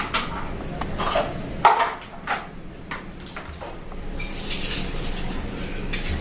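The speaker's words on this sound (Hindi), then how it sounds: "उतने में मैं ये बर्तन अरेंज कर लेती हूँ।" Metal dishes and utensils being sorted and set down in a home kitchen, with a run of light clinks, taps and scrapes of varying loudness, a sharper knock near the start and brighter rattling toward the end.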